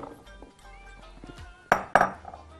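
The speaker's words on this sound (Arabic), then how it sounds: "في الطبق هنحط البطاطس" Potatoes set into a Pyrex glass baking dish, with a quiet start followed by two sharp close clinks about a quarter second apart.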